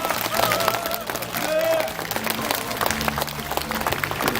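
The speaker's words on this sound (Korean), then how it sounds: "박수를 부탁드립니다." Audience at a statue donation ceremony claps in scattered bursts, fairly close and moderate in volume, with crowd murmur and a voice mixed in.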